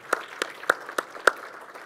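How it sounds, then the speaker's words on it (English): A handful of sharp, evenly spaced hand claps ring out one after another in a conference hall, sparse and fairly close rather than a full crowd. "Can we get an applause for that?"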